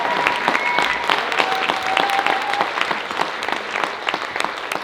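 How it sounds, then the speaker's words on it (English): Audience applause after a high school symphonic band concert at a church fills the space, dense and sustained clapping from a crowd, with a faint voice briefly heard. "of applause for these fantastic students."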